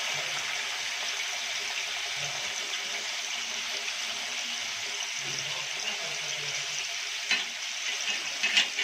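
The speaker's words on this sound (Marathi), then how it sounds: "त्याच्यानंतर आपण हे चिकन टाकूया।" Chicken sizzles and fries steadily in a hot pan with bay leaf tempering, a bright, constant crackle, and a few scraping stirs near the end.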